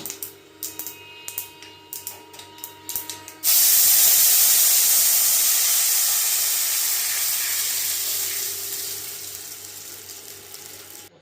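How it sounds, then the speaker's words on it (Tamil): After a few soft clicks and taps, rasam liquid hits sautéed thuthuvalai leaves in a hot pan, setting off a sudden loud hissing sizzle that slowly fades over several seconds. "இந்த ஸ்டேஜில் ரெடி பண்ணி வச்சுருக்க ரச கரைசலை இதோடு ஆட் பண்ணிக்கலாம்"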